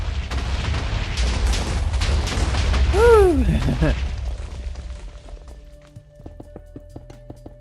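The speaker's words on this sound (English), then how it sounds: "Spear explosion." A spear explodes in the video game Echocraft with a heavy rumbling boom and falling whistle-like tones that fade into quieter ticking, while a person cheers over it.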